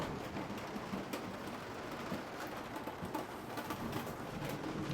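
Heavy rain drums on the roof of a camper, a dense, steady patter with scattered sharper drops, soft and constant throughout with no talking.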